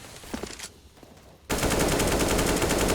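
Wall-bang gunfire in Counter-Strike on the map Cache, starting with a few faint scattered shots, then a loud sustained burst of rapid fire that continues to the end.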